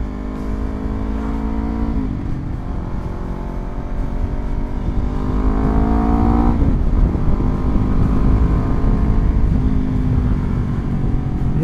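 A Honda CBR250RR motorcycle fitted with a Villan MV2 exhaust, heard while riding on a road: a loud, steady engine drone that rises in pitch through the gears, with brief dips at the shifts and no talking.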